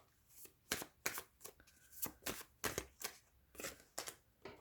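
Tarot cards are shuffled by hand in a series of sharp riffling bursts, close and fairly quiet, with short pauses between them.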